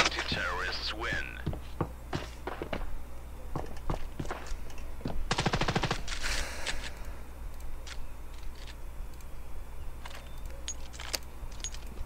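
Gunfire in the mobile shooter Standoff 2 during a ranked match: scattered sharp single shots, with a dense burst of rapid-fire shots near the middle, over a steady low hum.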